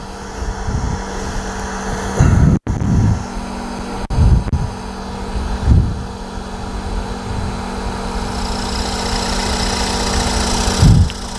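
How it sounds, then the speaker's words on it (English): A wood lathe drones steadily as a skew chisel turns a tenon, with a few short, louder bursts of cutting over the continuous motor hum, close up. "Our negative rake tenon making tool, also known as a skew."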